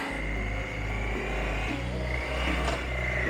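Motorcycle engine revving sharply after a missed gear on a foggy countryside road, a steady loud mid-pitched drone that swells and dips briefly before settling, with strong wind rumble underneath.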